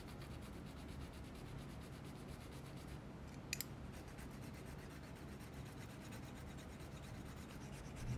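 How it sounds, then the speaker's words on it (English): Hand files rasp with a steady, even scraping rhythm, shaping a hole in a diecast Hot Wheels Dodge A100 toy van, close and quiet throughout. "I'm gonna take files and just slowly file until it's perfect"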